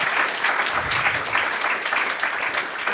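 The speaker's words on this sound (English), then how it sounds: "Can we please give a round of applause for our poets?" An audience at a political poetry evening applauds the poets. The applause forms a steady, dense wash of many hands clapping at once and holds at an even, fairly loud level for the whole stretch, with no voices over it.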